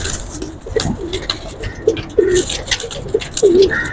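Cheena pigeons coo on a rooftop in a series of soft, low repeated calls spread across the clip, fairly close, with light rustling and patter in the background.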